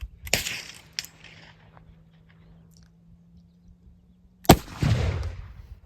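Two sharp blasts from a Civil War revolver, one near the start and another around the four-and-a-half-second mark, each followed by a short rumbling decay, with a low steady hum in between and no speech.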